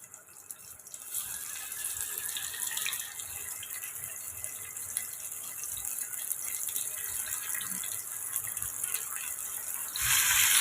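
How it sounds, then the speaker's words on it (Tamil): Fish for Kerala-style meen polichathu frying lightly in hot oil: a dense, continuous crackling sizzle close by that grows louder near the end. "இப்போ நம்ம மீனை லைட்டாக நம்ம ஃப்ரை பண்ணி எடுத்துக்கிறலாம்"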